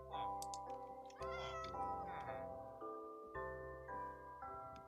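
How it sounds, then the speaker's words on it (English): Several Minecraft cats meow in quick succession in a Skyblock game, clear tonal game mews repeating one after another with faint clicks between. "cats are spawning down here again"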